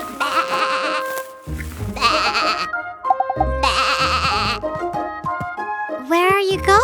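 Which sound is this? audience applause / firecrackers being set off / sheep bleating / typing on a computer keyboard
sheep bleating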